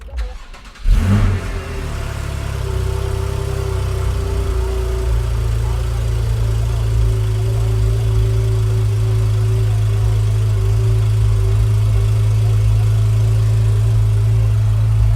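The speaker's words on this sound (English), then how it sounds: "Then we go ahead and turn on the car." A Porsche 911 GTS engine cranks and fires up with a sharp roar, then settles into a loud, steady, throaty idle that hums on for many seconds.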